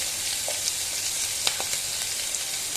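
Onions fry for Tamil snake gourd kootu, sizzling steadily in a pan, a close hissing crackle with a few faint stirring clicks and no talk.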